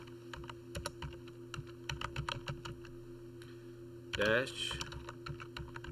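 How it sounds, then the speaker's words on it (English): Keys on a computer keyboard being tapped in Excel, a steady run of close clicks under a faint hum, with a voice speaking partway through. "We're going to type subtotal"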